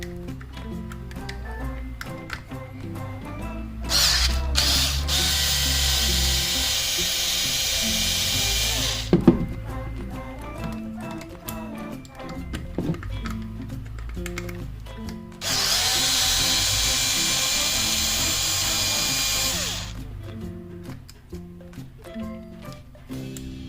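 A power drill or driver backs out the four screws on a Jeep TJ idle air control unit during a throttle body swap, two sustained whirring bursts of several seconds each, close and loud, with clicks and handling noises between.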